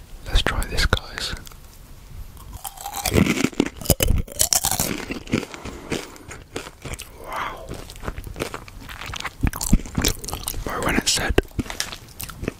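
Close, crisp crunching and chewing of chili pepper and lime Mexican snacks, with loud bites and irregular mouth sounds mixed with soft whispering.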